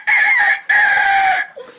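A person imitates a rooster crowing with a loud, close, strained two-part cry that sounds convincingly like a real cock-a-doodle-doo, trailing off into a brief low sound at the end.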